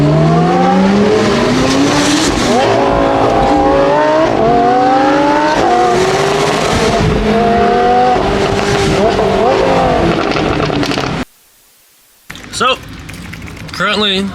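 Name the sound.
car driving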